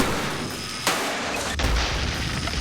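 Two sharp, loud cracks about a second apart cut through a steady background roar, a rifle firing and its barrel bursting, each a sudden broadband burst.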